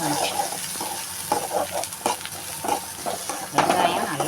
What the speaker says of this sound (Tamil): வெங்காயம் நல்லா வதக்கிக்கணும்.